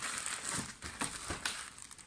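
Clear transparent wrapping paper crinkles and crackles in short bursts as a small gift pouch with a little bow is wrapped, close up with no talking.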